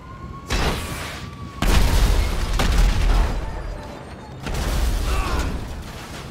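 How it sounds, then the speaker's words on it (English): An explosion on Grove Street in the video game Grand Theft Auto V: loud, close booming blasts with crackling, rumbling debris and mechanical clatter, several heavy bursts rolling one after another over about six seconds. "An explosion on Grove Street."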